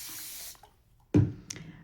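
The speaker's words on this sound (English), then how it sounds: "And then we'll use this spray bottle with water in it" A hand spray bottle filled with water mists onto sticky-side-up tape on paper: two quick, close spritzes, the first louder, after a brief quiet moment.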